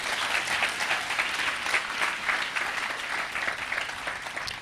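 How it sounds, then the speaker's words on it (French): A church congregation applauding together, a dense sustained clapping of many hands filling the room at a moderate distance, with no voices standing out. "On acclame le Saint-Esprit."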